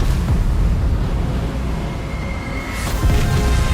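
Battleship Bismarck firing salvos in World of Warships, heavy booming blasts with a deep rumbling roar that fades and then swells again with a fresh burst near the end.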